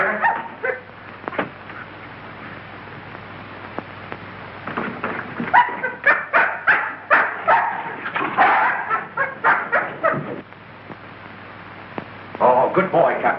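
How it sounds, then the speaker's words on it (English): An injured dog in a 1930s mystery film whimpers and gives a run of short, sharp barks and yips, fairly close and loud, with faint talk and background noise around them. "This dog's been struck a nasty blow."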